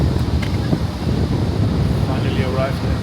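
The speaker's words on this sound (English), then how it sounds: "it's extremely windy" Strong wind gusting across an airport apron beside a large passenger plane, a steady loud broadband roar buffeting the microphone, with a voice speaking over it.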